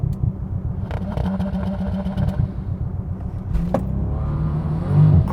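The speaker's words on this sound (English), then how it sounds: "I'm going to launch this Bentley." A 2019 Bentley Continental GT launches hard from a standstill, its engine a loud, steady roar that builds continuously with a brief surge near the end, close and unbroken throughout.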